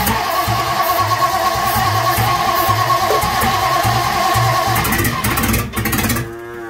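A 1958 Ford Thunderbird engine cranks and catches, rumbling loudly and unevenly at close range before cutting off abruptly near the end.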